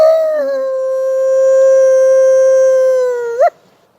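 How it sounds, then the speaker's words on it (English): A single long wolf howl, loud and close, holds one steady tone for more than three seconds, then rises sharply and breaks off abruptly. No other sound accompanies it. "And he howled to the sky and remembered who he was."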